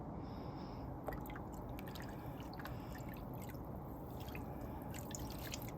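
Water dripping and trickling while newly spun 100% wool yarn is gently washed, a steady close wet wash with scattered drips, no talking.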